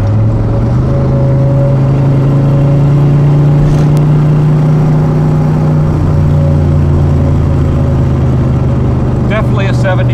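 A 1971 Chevrolet Corvette is driven while its engine accelerates, a loud, steady droning hum that rises slightly in pitch and holds under a voice.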